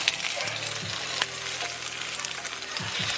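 Pierogi sizzle steadily in a hot frying pan, a continuous close crackle with a few faint scrapes and light knocks of a utensil against the pan.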